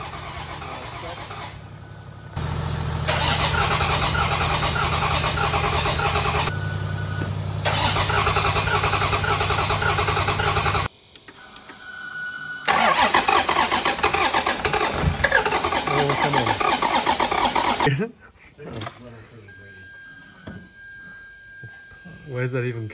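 Toyota 1HD-FTE diesel engine cranking repeatedly without firing, loud sustained starter churning in long bursts separated by pauses, with people talking briefly between attempts.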